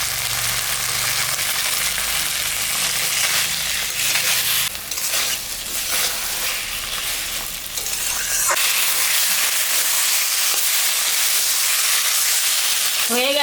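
Potatoes and tomato frying in a spiced masala for a magur fish curry give a loud, continuous sizzle and hiss with stirring scrapes, close to the pan, with no talk.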